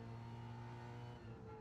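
Race car engines roar steadily in a Gran Turismo racing video game, a sustained multi-tone drone from several cars heard from cockpit or bumper view, faint and continuous without talk.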